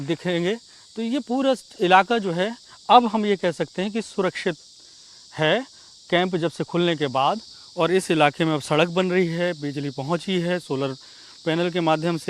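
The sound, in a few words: crickets chirping in a forest village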